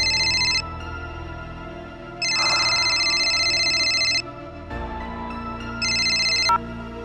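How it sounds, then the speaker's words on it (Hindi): A telephone rings in repeated electronic bursts, three rings separated by pauses, over a low background hum. "मिस्टर खन्ना का फोन।"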